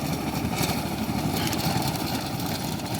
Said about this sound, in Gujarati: આપણે મિની ટ્રેક્ટર છે, કેપ્ટનનું ટ્રેક્ટર છે